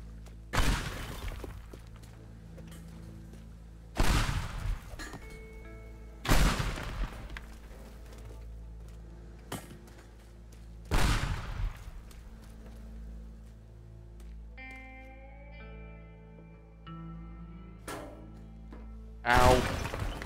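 Pipe bombs in the video game Teardown blow apart objects around a rich guy's cars. Five loud, sharp blasts land every few seconds, each followed by a debris-filled crash and a short tail of settling clatter and tinkling.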